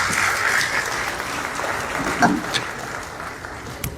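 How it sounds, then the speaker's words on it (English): Audience applause at a closing ceremony for community policing and law enforcement training, a dense, even wash of clapping held throughout with a few sharper individual claps near the end. "Please give them another round of applause."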